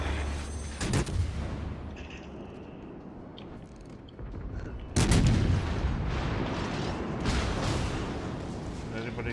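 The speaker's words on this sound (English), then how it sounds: "I'm trying to get my rear guns to shoot that one." Rear gun turrets of a warship in World of Warships Legends fire in loud booming blasts, one early and a bigger one midway, with rumbling tails over steady game noise while players talk.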